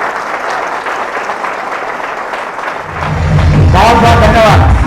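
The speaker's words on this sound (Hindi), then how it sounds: "एक बार जोरदार तालियां बजा दीजिए" Loud audience applause at a career-guidance seminar honours a centre operator, a continuous roar of clapping for about three seconds before a voice starts speaking over the last of it.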